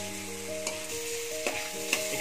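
Onions and tomatoes sautéing for pinakbet, a steady bright sizzle broken by a few spatula scrapes against the pan, heard up close with no one talking.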